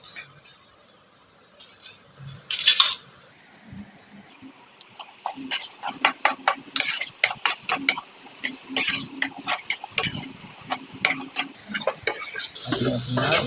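Sliced onions frying in a pan until golden brown, with a steady low sizzle broken by frequent sharp scraping and clicking taps from stirring.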